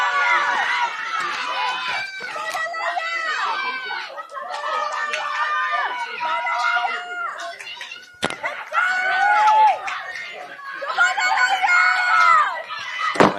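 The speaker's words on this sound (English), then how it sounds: "I heard you all shouting her name." Spectators at a Middlesex track and field championships race shout and cheer loudly and continuously through the final heat, many voices rising and falling together with a brief dip partway through.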